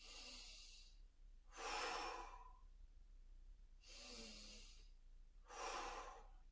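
Slow, deliberate breaths are drawn and released close to the mic, three long airy inhales and exhales separated by quiet pauses, used to calm nerves and lower heart rate before competition.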